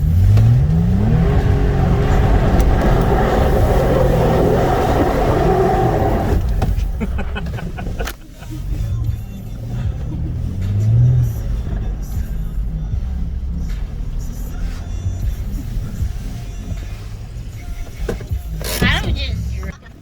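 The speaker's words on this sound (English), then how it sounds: "do the 4-wheel donut, I guess." A car spinning a four-wheel donut with its engine revving loud and close, rising and falling in pitch. The engine roars steadily throughout, with voices talking over it.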